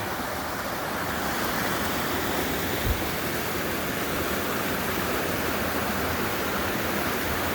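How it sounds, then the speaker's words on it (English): A waterfall at Dunn's Falls, Maine roars steadily and close by, a dense, unbroken rush of water with no voices. "Nice little waterfall there."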